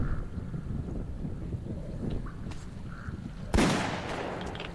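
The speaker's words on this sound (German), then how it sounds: "Ich höre Schüsse" In the video game Metro 2033 Redux, a single sharp gunshot cracks out against a windy, watery ambience, loud and sudden before trailing off.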